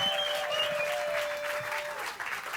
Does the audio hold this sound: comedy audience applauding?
yes